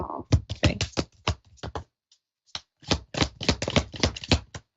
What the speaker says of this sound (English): I'm pulling cards, so I'm just shuffling right now.